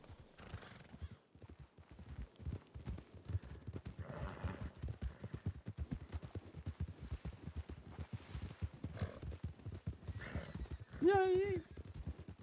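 Rhythmic clip-clop of horse hooves in a ranch role-play video game at a steady walking pace, with a horse whinnying near the end and a voice talking over it.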